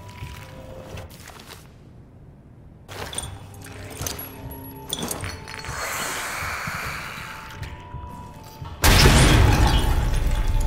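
Amnesia: The Bunker game soundscape of mechanical clanks and rumbling, ending in a loud, sudden grenade blast that roars and lingers to the end.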